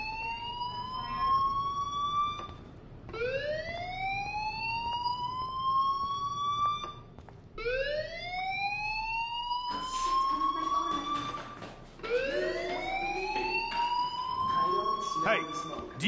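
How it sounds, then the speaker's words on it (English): A fire alarm blares in the Life is Strange video game, its rising sweeps repeating in four loud, near bursts with short gaps between them and faint background noise underneath. "Hey, do you hear that fire alarm? That means you should be outside."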